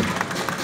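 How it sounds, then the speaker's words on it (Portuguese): Applause for the Colégio Santana marching group at a civic parade in Bom Jardim, Pernambuco, a brief burst of dense outdoor clapping from a crowd, steady and loud. "Vamos aplaudir o Colégio Santana"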